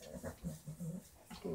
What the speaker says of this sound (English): That's my little pig dog.